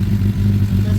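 A Suzuki Bandit motorcycle with a Blue Flame duo exhaust idles close by, its engine a loud, deep, steady throb with a slightly uneven low pulse and no talk over it.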